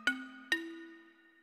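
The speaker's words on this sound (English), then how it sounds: "Xylophone." Two bright, hard-struck xylophone notes from the Claviatura keyboard app for Mac sound a half second apart, each ringing briefly and then fading.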